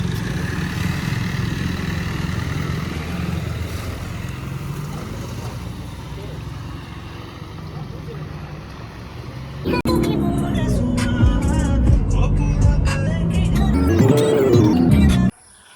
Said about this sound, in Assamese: ইঞ্জিনৰ চাউণ্ড ধুনীয়া হৈ আছে।